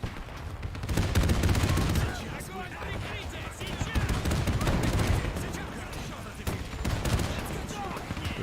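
Dense, sustained machine gun fire and other gunfire from a World War II battle in the game Men of War II, with machine gun tanks advancing; rapid overlapping bursts roll on continuously and fairly loud throughout.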